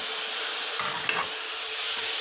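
Chopped onion and garlic sauté in a hot pan for pepper chicken, giving a constant close sizzle and hiss, with a brief scrape of stirring partway through.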